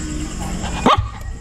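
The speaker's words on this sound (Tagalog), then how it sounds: "kumakahol-kahol si Alfie ah" A dog barks once, fairly close and sharp, amid low background noise in a home setting, preceded by faint ambient murmur.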